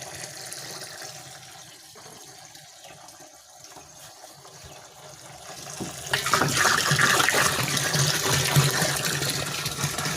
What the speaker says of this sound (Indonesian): Nah, sudah hampir penuh airnya.